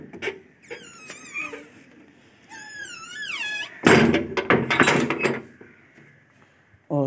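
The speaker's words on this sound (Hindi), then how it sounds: "मैं दरवाज़ा खोल रही हूँ" A door being opened at home to let a pet out, squeaky creaking hinge sounds followed by a cluster of loud knocking and thumping clatter, then a quieter stretch with faint background noise.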